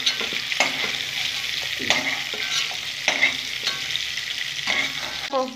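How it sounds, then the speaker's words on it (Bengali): Whole cumin seeds, bay leaves, cinnamon, cardamom and cloves hit hot oil for a Bengali tempering, a continuous close sizzle and crackle broken by repeated stirring scrapes. "গোটা জিরে, তেজপাতা, দারচিনি, এলাচ, লবঙ্গ ফোড়নে দিয়ে দিলাম।"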